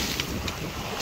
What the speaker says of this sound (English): Suddenly got hit by a gust there.